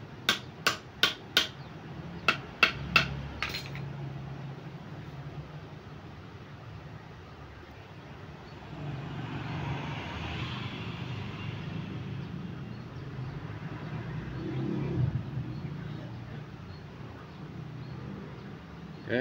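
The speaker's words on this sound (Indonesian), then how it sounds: "kita langsung copot murnya" Metal tapping and knocking while a nut is loosened on a Yoko tube-type motorcycle shock absorber: a quick cluster of sharp clinks at the start, then a long stretch of low, muffled workshop noise.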